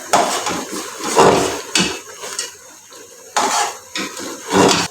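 Browned onions being mixed into beef qorma in a metal pot, with loud clanking scrapes of a spoon against the pot in irregular bursts and short pauses between, close and with no talk.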